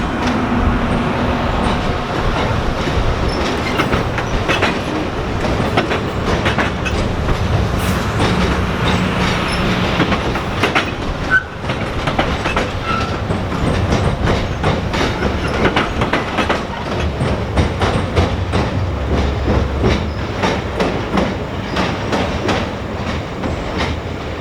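Vintage diesel locomotives haul a passenger train with a head-end power car in the Appalachians, a loud, steady rolling roar with rhythmic wheel clatter over rail joints and occasional squeals, heard up close throughout.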